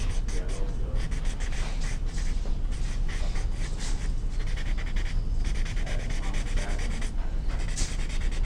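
Pencil strokes rubbed and blended across paper while shading a drawn tree, a steady close scratchy rubbing that continues throughout, with no pauses.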